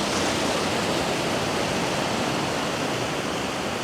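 Ocean surf at a beach at sunrise, white water waves washing in as a loud, steady broadband roar of rushing foam, close and continuous with no talk.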